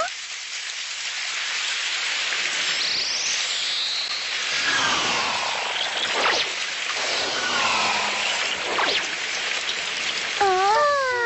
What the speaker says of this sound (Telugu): ఓ, వర్షం కురుస్తుంది.